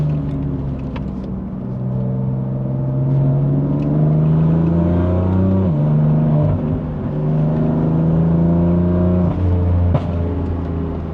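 A 2020 BMW M4 Competition with a Stage 2 tune accelerates hard on a road drive, its engine note climbing and dropping through gear changes in a loud, continuous rumbling roar heard from inside the car, with no talking.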